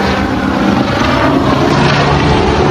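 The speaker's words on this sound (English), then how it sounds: "look at the helicopter right there. You see it diving down" A helicopter flying in news footage gives off a loud, steady rotor and engine roar that fills the whole stretch without letup, with no voices present.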